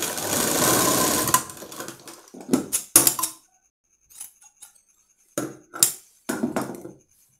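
An electric sewing machine stitches a frock at a tailor's, running in one long burst of rapid needle clatter, then in several short start-stop runs with brief silences between.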